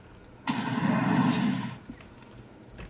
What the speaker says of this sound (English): it just destroys itself and also creates a small explosion